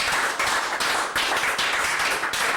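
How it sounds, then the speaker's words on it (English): Steady applause from a crowd, dense and continuous clapping filling the whole stretch with slight surges in intensity. "Could we have another round of applause for these wonderful musicians?"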